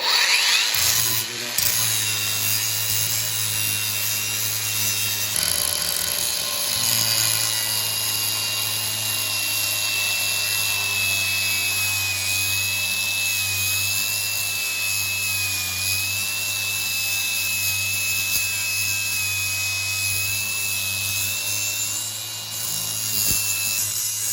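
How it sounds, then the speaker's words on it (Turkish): A cordless rotary tool whines steadily at high speed for the whole stretch, a thin constant tone with a low hum beneath. "şarjlı ispiralimizi deneyelim."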